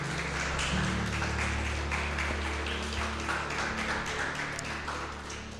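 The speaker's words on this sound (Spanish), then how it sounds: "¿Qué tal si le dan un aplauso al Señor?" A church congregation applauds during a service, a dense, continuous patter of many hands clapping at moderate level that eases off slightly toward the end.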